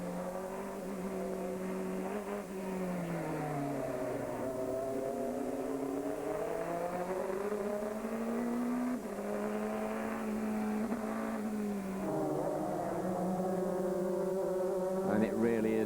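American Le Mans Series race cars drive through traffic of slower vehicles, their engines droning and shifting pitch as they rise and fall through the gears, a continuous moderately loud mechanical roar with no talking.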